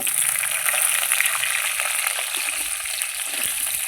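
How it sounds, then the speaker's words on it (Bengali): Potatoes fry in a pan of oil tempered with whole cumin, giving a steady, close, dense crackling sizzle throughout with no talking. "আলুগুলো প্রথমে আমি ভেজে নেব"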